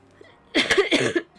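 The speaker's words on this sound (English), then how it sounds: "sorry about my cough" A streamer coughs in a short harsh burst of several quick, close coughs that follow a brief quiet moment, with nothing else heard around them.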